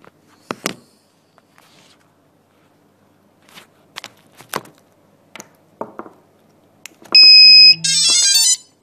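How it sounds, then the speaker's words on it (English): After some handling clicks and knocks, a Turnigy Be Found lost-model alarm, used with a Spektrum transmitter, emits two loud electronic beeps near the end when powered on, one pure tone followed by a buzzier chirp. "We got a beep when we first turned it on."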